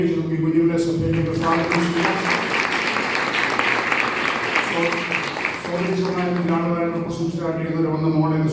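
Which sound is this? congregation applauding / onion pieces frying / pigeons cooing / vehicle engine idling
congregation applauding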